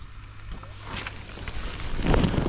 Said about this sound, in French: Moi j'entends une moto les gars.